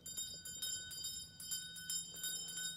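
Bells ring out loudly through an old house in a telling of A Christmas Carol, with bright, repeated metallic strikes that come in irregular bursts and play fairly faint, with no voices.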